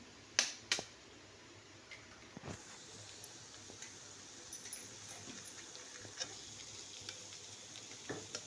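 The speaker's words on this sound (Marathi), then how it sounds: "म्हणजे अंडी फोडते ह्याच्यात मी" Eggs crack sharply into a hot pan for divshi, two crisp snaps up front followed by a soft, steady sizzle of frying with a few faint ticks, fairly quiet and without talk.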